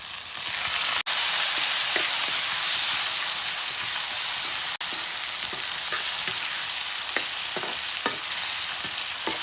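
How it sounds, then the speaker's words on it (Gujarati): Chopped tomatoes hit a hot oiled pan while making potato poha, producing a loud, continuous sizzle and hiss with occasional stirring scrapes and a couple of sharp clicks, no voices. "હવે આપણે નાખી દઈએ એમાં ટમેટા."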